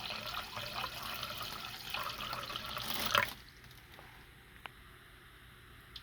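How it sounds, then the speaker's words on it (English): Tap water runs from a sink into a container in a soft, steady hiss that suddenly stops, leaving a quiet room with a couple of faint drips or clicks afterward. "I'm collecting water"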